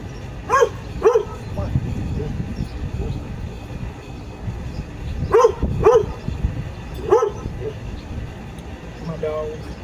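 A pet dog barks in quick pairs, two early barks and then a cluster of three, loud and fairly close over a rumbling background murmur.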